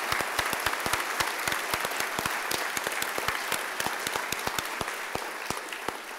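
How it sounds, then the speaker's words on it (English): An audience at a business ethics awards ceremony gives a round of applause, a dense, even patter of many hands clapping steadily and moderately loud throughout. "I want John Bosch to stand up, and I want everybody to give a round of applause to the actual driver, innovator, and leader of Recognize Good"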